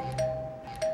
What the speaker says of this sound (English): This is how people literally have to ring the doorbell.